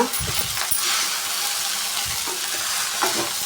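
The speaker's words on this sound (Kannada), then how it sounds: "ಚೆನ್ನಾಗಿ ಮಿಕ್ಸ್ ಮಾಡ್ಕೊಳ್ಳೋಣ ಇವಾಗ" Egg rice stirred in a pan with a spoon, giving steady scraping and light sizzling for a few seconds, with occasional clinks against the metal.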